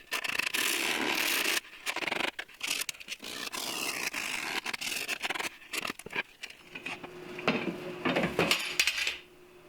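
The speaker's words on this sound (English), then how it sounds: "followed by a file, and sand at a 5-degree bevel" Birch edge banding is sanded at a bevel, giving irregular rubbing and scraping strokes broken by short pauses, moderately quiet and close, with no talk.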